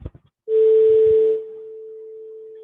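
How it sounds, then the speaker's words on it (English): A steady pure 440 hertz sine test tone begins after a brief bit of noise, loud at first, then continuing softer and unchanging to the end. "now 440 hertz is playing"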